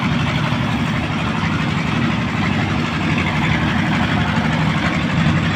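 A trawler boat's engine runs on a river in winter, a loud, steady low rumbling drone that carries throughout with no voices over it.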